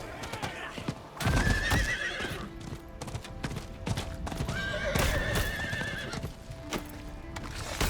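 In Diablo 4, a horse's hooves clip-clop in a steady rhythm while it neighs loudly twice, over ambient game music and effects.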